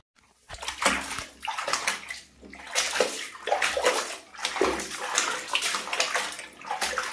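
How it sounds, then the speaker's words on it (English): Running water pours steadily over items being rinsed, a loud close splashing and sloshing stream with uneven surges and no speech. "Now I'm rinsing out some things"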